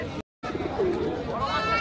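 Pigeons cooing at the Birnagar bird market in Nadia, soft rising coos heard close, with a short gap of silence near the start and a faint murmur of market voices behind.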